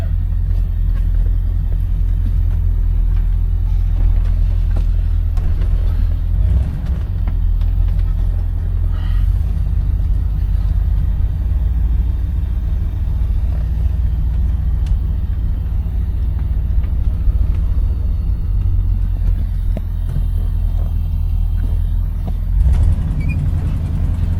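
A 1969 Buick Electra 225 cruises on the road, giving a constant low rumble of engine and road noise from inside the cabin, smooth and unbroken with a few faint knocks.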